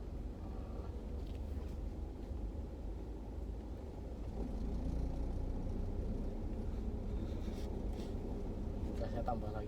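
A car engine hums steadily and rises in pitch as the accelerator is pressed during a driving lesson. An instructor speaks over the engine noise throughout.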